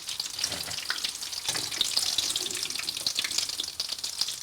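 Samosas deep-frying in hot oil, a steady broadband bubbling sizzle that holds at an even level from start to finish, close by and with no voices.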